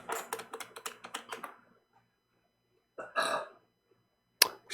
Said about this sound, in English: Excuse me, that was me burping.